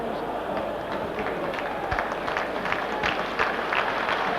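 A large stadium crowd applauds sympathetically as a football player is substituted in a Champions League match between Milan and Real Madrid, steady distant clapping spread across the stands with a low hum underneath.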